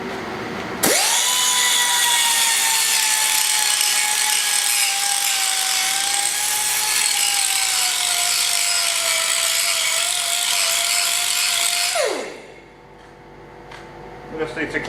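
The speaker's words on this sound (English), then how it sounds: "grinder." An angle grinder working bare metal in an off-grid fabrication setting, spinning up sharply, then holding a loud, steady high whine for about eleven seconds before winding down.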